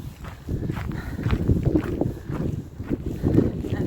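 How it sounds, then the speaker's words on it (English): Gusty wind buffets the microphone outdoors on a cold winter walk, a steady low rumble with stronger surges and faint footsteps, no talking. "And it's very windy again."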